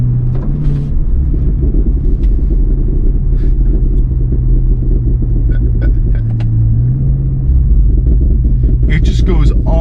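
A 2024 Cadillac Escalade V rumbles steadily from the cabin while driving, a loud, continuous low engine drone with a brief rise partway through and light clicks over it.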